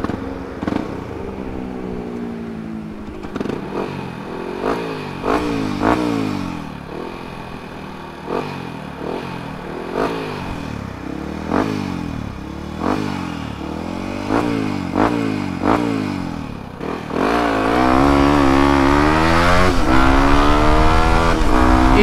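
A stock-engine Yamaha WR155R motorcycle accelerates hard through the gears in a top speed run, its engine note climbing repeatedly with brief dips at each shift, then holding a loud, steady high-revving whine with strong wind rush.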